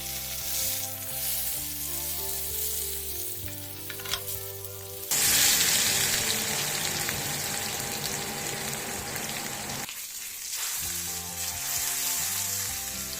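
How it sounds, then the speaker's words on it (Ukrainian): Loud, continuous sizzling and crackling of meat searing in plenty of hot oil, swelling sharply partway through, with a brief quieter dip before resuming. "наливаємо багатенько олії, викладаю м'ясо та підсмажую з кожної сторони по 2-3 хвилини"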